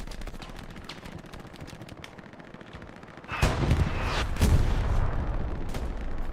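Gunfire in the Hell Let Loose World War II shooter during a competitive Premier League match, distant muffled shots under a low rumble, then a louder burst of rapid fire and booms kicking in midway.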